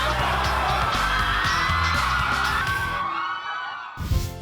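A crowd of fans outside the Pan Pacific Hotel in Vancouver screams and whoops in a dense, loud, continuous roar that fades toward the end before a brief burst of noise.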